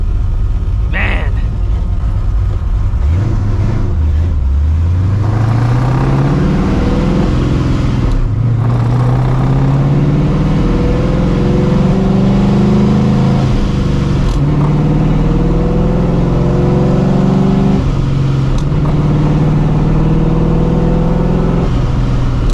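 A supercharged New Edge Mustang GT with a worn clutch and no hood, its engine loud and close as it accelerates and revs through several rising pulls and gear changes, with a person talking over it.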